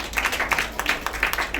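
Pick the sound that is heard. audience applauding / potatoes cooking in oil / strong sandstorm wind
audience applauding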